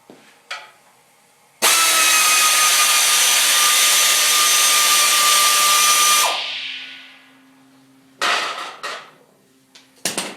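A 289 V8 engine on the bench during a rebuild has its last oil pan bolt removed, with a loud, sustained burst of power-tool whirring lasting several seconds, then short mechanical clatters and brief tool bursts afterward.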